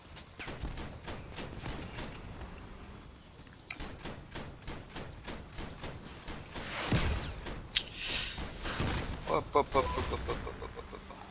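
Bursts of gunfire and vehicle explosions ring out in a vehicle combat video game, a rapid string of sharp reports broken by louder blasts, with someone talking over much of it.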